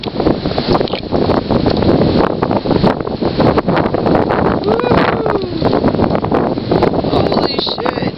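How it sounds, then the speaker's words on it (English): Strong Michigan wind gusts roar through trees, a loud continuous rushing with heavy buffeting on the microphone and rustling throughout. "Wait till a big old gust comes."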